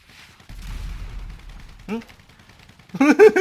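Bursts of gunfire in the video game GTA V, a couple of sharp shots in the middle and a louder cluster near the end, mixed with game sounds and a voice.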